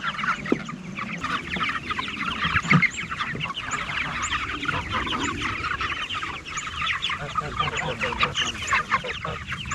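A crowd of chickens on a farm clucks continuously, many overlapping close calls forming a busy, steady chatter with no speech.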